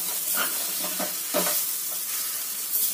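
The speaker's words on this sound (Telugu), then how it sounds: "ఈసారి మురక్కాడ ముక్కలు వేస్తున్నాను" Drumstick pieces for a drumstick curry are stirred in a frying pan, a close, steady sizzle with soft scraping and clatter as they are turned.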